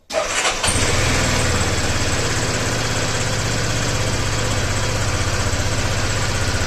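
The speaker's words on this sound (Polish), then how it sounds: "Jeżeli jest na ręcznym, tak teraz, odpalimy go." A Peugeot Metropolis 400 scooter with its parking brake on cranks briefly and its engine catches, then settles into a steady, loud, even idle hum that runs nearly seven seconds with no talk.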